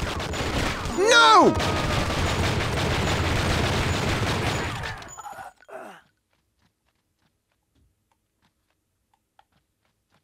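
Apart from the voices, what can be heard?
gunfire from video game True Crime: Streets of LA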